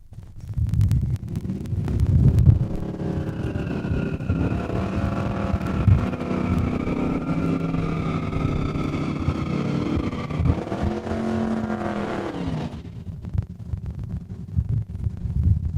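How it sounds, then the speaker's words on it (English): Drag racing cars at Saskatchewan International Raceway, a loud sustained engine roar with rising and falling revs and a strong low rumble, holding steady for several seconds before cutting off abruptly, with no talk over it. "yeah, we got drag racing going on"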